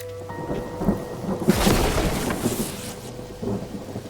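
Rain and rolling thunder in the video game Mind Over Magic: a steady patter of rain runs throughout while a loud, rumbling thunderclap swells in the middle and slowly fades.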